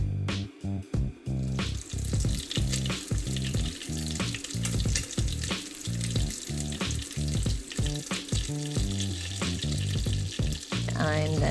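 Battered Korean fried chicken in hot oil for its second fry makes a loud, dense, bubbling sizzle that continues throughout, up close, with music playing behind it.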